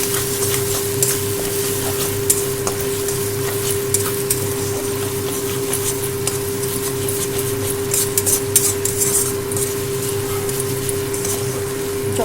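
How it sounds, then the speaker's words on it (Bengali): Mustard paste with green and red chillies stirred into hot oil in a pan, a continuous close sizzle with scraping and light utensil clicks throughout. "তেলের সঙ্গে সর্ষেটা ভালো করে মিশিয়ে নেব"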